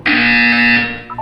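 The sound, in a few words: buzzer in the video game Portal 2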